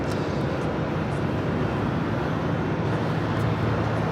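A Delta Airlines A321 airliner arrives at LAX, a steady, dense roar of jet noise that holds even and loud throughout with no talk.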